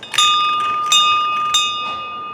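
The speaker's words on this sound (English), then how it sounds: "They let me ring a bell since it was my first time." A bell rung by hand at a BeaverTails pastry shop in Canada gives three bright, close metallic strikes about 0.7 seconds apart, each ring sustaining and decaying into the next.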